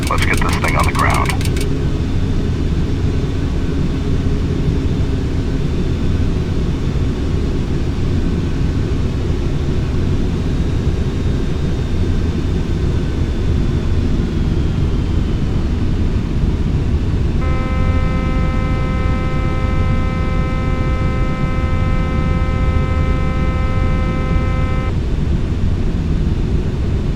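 Boeing 747 on landing approach in Flight Simulator X, a steady loud cockpit drone of engine and airflow with a few short tonal alert beeps.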